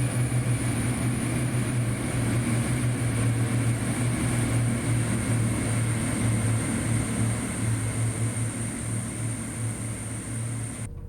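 A noisy diesel train with a turbocharged engine in Train Simulator 2021 runs on the North Wales Coast line from Crewe to Holyhead, a steady loud engine drone and hum continuing throughout with no talking.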